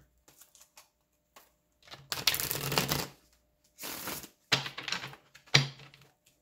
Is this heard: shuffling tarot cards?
yes